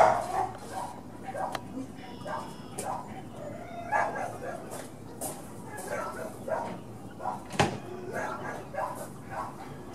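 A dog in a kennel barks and yips in short, scattered bursts at moderate distance, mixed with some whimpering, while a person talks over the noise.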